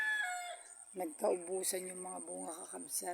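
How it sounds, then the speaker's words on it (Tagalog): A rooster crows on a rural Philippine morning, a drawn-out call heard softly in the background while someone speaks close up over it. "Pag tumitilawok yung manok sa umaga, talagang baryong-baryo eh."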